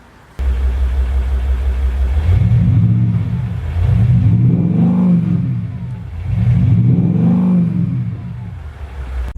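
A long-wheelbase Maserati Quattroporte engine catches, then revs three times in rising and falling sweeps, loud and near, settling back to a low idle rumble between each push.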